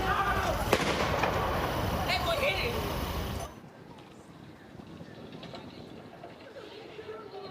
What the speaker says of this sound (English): And so that was just one of a set of fireworks that we heard.